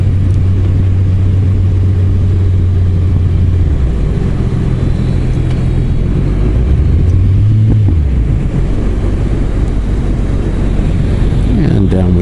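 Suzuki GSX1250 motorcycle engine droning steadily while riding through hilly lake roads toward a steep curve, with wind rumble throughout and the pitch shifting as the rider slows and picks up speed.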